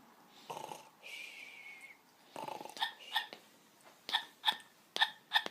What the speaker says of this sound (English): Oh, he's got a bad case of hiccups